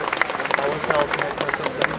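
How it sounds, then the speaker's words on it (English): A crowd at a 2015 RC robot combat world championship qualifying event claps for the robot Drum Roll, with dense, scattered handclaps that stay moderately loud throughout and a voice mixed in underneath. "Round of applause for Drum Roll then"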